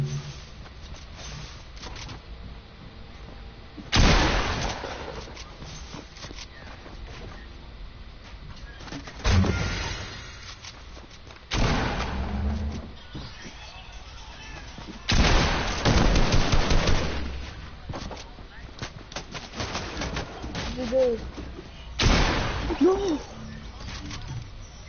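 Video game gunfire comes in several separate bursts of shots spread across the clip, loud against a quieter background where people talk and faint bird-like cooing occurs.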